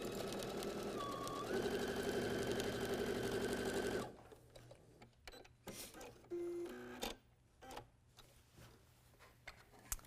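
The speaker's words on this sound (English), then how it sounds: "we're going to take this right to the machine and stitch with a straight stitch across the line" A sewing machine runs a straight stitch through layered quilting fabric, a fast, even mechanical chatter for about four seconds before stopping, then scattered quiet handling sounds.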